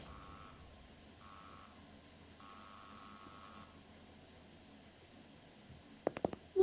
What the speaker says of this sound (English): Ringing my doorbell like a common simpleton